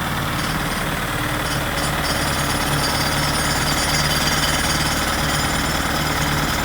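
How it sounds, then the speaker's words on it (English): An air compressor runs on a building site in Barbados, giving a loud, steady mechanical drone with a low throbbing pulse that carries on unbroken throughout, with no voices. "The compressor is going well."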